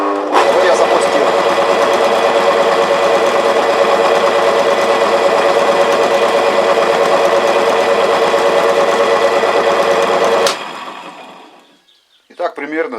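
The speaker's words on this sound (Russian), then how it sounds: "Сейчас вот двигатель будет стоять, гудеть, и вы увидите, сколько он берет," A three-phase electric motor, run on single-phase power at idle, hums loud and steady for about ten seconds before cutting off, with someone speaking and faint clatter afterward.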